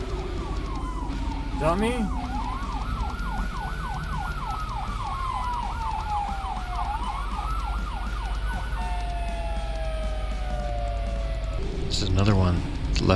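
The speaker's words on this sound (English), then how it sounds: "Here comes an ambulance." An ambulance siren wails in rising and falling sweeps as the ambulance moves through Raleigh traffic over a bed of road and engine noise, then cuts off; a voice speaks briefly.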